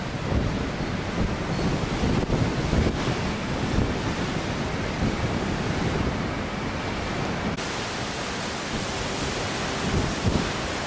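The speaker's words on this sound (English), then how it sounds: "the wind is blowing" Strong wind buffets an Antarctic cruise ship's icy deck at about 14 miles per hour, roaring steadily across the whole stretch with gusty rumbles and surf-like wash, loud and continuous with no talk.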